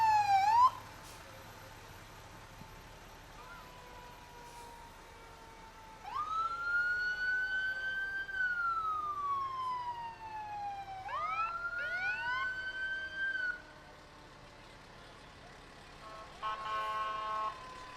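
Siren of a volunteer fire department vehicle in a Watertown Rails to Trails parade, rising and falling in long wailing sweeps with a short yelp at the start and brief bursts near the end, fairly loud, no talk.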